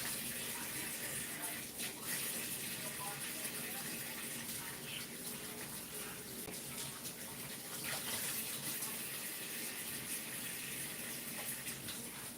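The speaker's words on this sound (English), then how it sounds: "I'm going to wash my hands." Tap water runs steadily into a kitchen sink during handwashing, a continuous close gush with faint splashes and handling noises.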